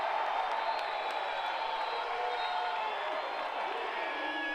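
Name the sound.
basketball crowd cheering after a dunk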